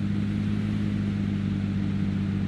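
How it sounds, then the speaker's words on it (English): A steady, loud car engine drone in the video game Police Simulator: Patrol Officers hums without letup, a deep constant rumble with no voices over it. "These cars are loud."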